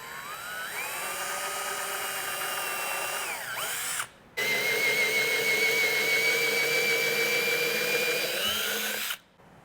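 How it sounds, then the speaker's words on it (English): A power drill whines steadily while boring a hole in a Toyota Tundra trim panel, running in two long close bursts split by a short pause, with the motor pitch shifting slightly between passes. "Now I'm flipping it over and I'm going to drill it a little bit on the back side"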